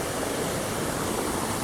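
Water of a river pours over a dam in a dense, continuous rush, loud and close, filling the short moment with no voices.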